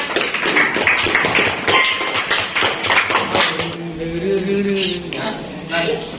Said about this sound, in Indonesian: Silakan tepuk tangan untuk kelompok 4.